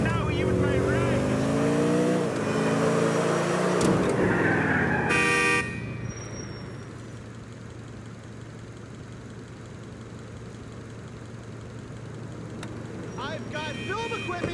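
Game car from Grand Theft Auto IV driving, a steady low engine hum that runs through the whole stretch, with voices talking over it early on and a brief horn-like tone near the middle.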